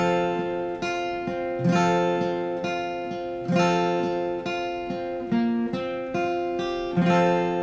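Fingerpicked acoustic guitar, individual notes plucked in a flowing steady pattern over ringing bass strings, close and clear with nothing else playing.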